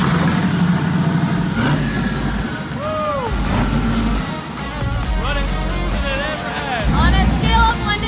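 A street car's engine runs and revs steadily throughout, loud and close, with pitch rising and falling in several rev sweeps, while people talk over it.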